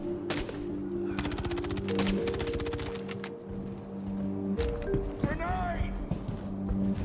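Bursts of rapid automatic gunfire in Star Citizen, a dense rattling volley early on followed by scattered shots, mixed with game ambience and people talking over it.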